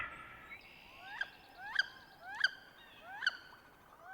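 Birds call over farmland near Kaplan in Vermilion Parish, giving a series of four clear, repeated whistled calls at a steady pace. The calls stand out alone against a faint outdoor background.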